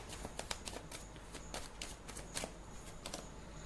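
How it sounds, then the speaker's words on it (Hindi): Tarot cards shuffled and drawn by hand, quick crisp riffling flicks and slaps repeating in irregular bursts, close and fairly quiet over a faint background hiss. "मैं कुछ और कार्ड्स निकाल लेती हूँ।"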